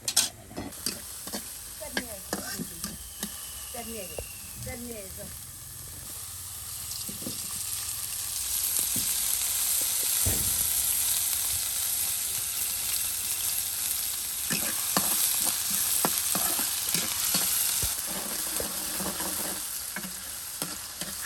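Tempering for a village-style beef curry made with hand-ground spices, starting with clinks and scrapes of a pan, then a loud sustained sizzle with occasional stirring knocks.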